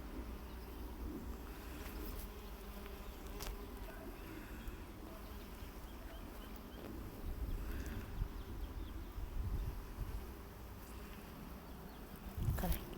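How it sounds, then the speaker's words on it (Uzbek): Honey bees buzz steadily around flowers while gathering nectar, a continuous close insect drone with occasional brief louder passes, the hum sitting over faint outdoor background. "Mana buni oyog'idagi satilchasini qarang, ari asal yig'adigan."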